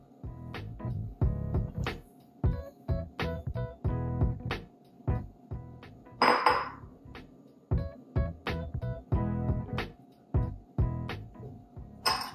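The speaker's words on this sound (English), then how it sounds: "I'm stirring it all together to make the cheesecake part" Cream cheese, sugar and vanilla being stirred together for a strawberry cheesecake waffle filling, with a spoon making a steady series of close, sharp clinks and scrapes against the bowl.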